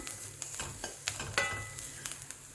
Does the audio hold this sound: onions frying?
yes